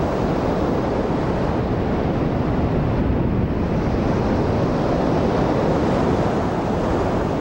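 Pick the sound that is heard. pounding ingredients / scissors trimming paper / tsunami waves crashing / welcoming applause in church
tsunami waves crashing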